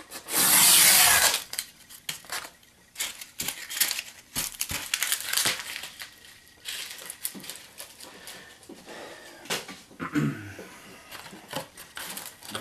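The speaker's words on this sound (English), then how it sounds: "Peel this piece off." A backing sheet peeled and crinkled during a drone build, starting with a loud rip, then sharp crackles, taps and plastic rustles scattered over several seconds close up.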